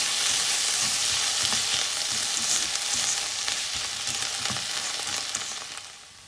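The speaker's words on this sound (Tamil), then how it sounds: "தக்காளி நல்லா குழைவாக வதங்கி வரணும்." Tomatoes sautéing with onions in a pan for bread upma, a steady close sizzle with faint stirring scrapes that eases slightly toward the end.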